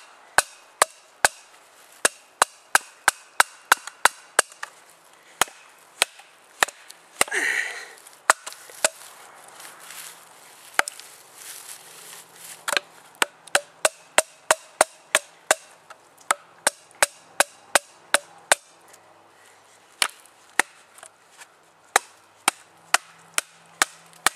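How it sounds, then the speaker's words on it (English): A wooden branch being split with a CS Recon Scout knife gives sharp cracks and snaps in quick bursts, loud and close, with a brief rough scraping in between and a steady run of crackles toward the end. "That's this branch making that noise, by the way, not the knife."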